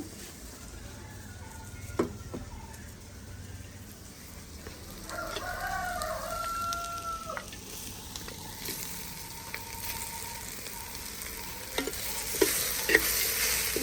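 Quiet sizzling and frying of country chicken in a clay pot with occasional stirring scrapes, while a rooster crows faintly in the distance.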